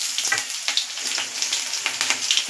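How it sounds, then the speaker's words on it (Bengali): Vegetables sizzle and crackle in hot oil with dried red chillies and five-spice seeds in a wok, a steady close frying hiss with soft stirring clicks throughout. "আমি তরকারিগুলো এর মধ্যে ছেড়ে দেবো"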